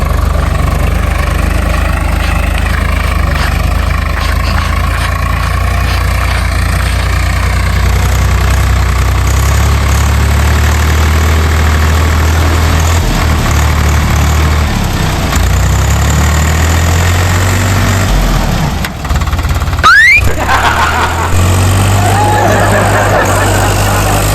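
A tractor engine idles steadily for the whole stretch, a loud, continuous low rumble with slight knocking, running without a break and nearly drowning out any faint voices.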